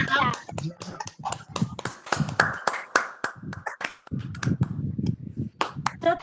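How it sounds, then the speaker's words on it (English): Participants in an online book club meeting clapping after unmuting, scattered sharp claps from several people, uneven and overlapping, mixed with talking voices throughout. "If you can unmute yourself and clap."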